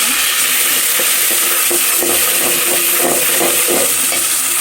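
Onions frying in a pan with ginger-garlic paste give a steady, loud sizzle with scattered clinks and scrapes from stirring throughout; no one speaks.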